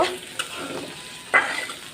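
Bitter gourd stir-frying for karela bhaji, giving a soft, steady sizzle with a few louder scraping stirs near the start and one sharp clatter about two-thirds through.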